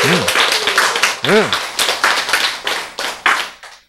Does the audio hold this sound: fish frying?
no